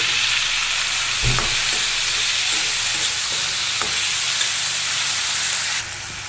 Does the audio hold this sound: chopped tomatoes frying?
yes